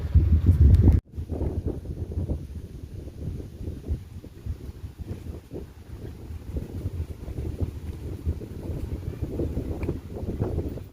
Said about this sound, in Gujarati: ઠંડો પવન વાય છે.